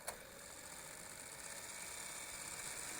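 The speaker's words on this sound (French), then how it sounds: "On arme les moteurs." Motors of a XINLIN X183 GPS drone being armed give a steady, faint electric whine with a tinny rattle, holding level throughout after a brief click at the start.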